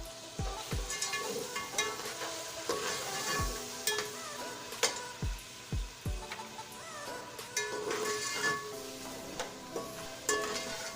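Chicken fries in a pan with ginger and garlic, a steady sizzle broken by a spoon or spatula stirring and scraping and a few dull knocks against the pan, with no talking.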